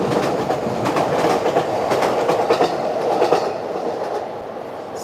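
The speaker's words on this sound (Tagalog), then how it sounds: "Train doon, train sa taas." A train rolls steadily past on the rails nearby, a loud continuous rumble with faint clickety-clack, fading slightly toward the end, with no talking.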